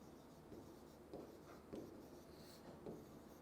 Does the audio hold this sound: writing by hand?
yes